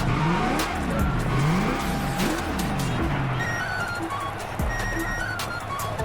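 A Ford Mustang roars through a drag race burnout in The Crew Motorfest, the engine revving in rising and falling sweeps while tires squeal and skid, loud and close throughout.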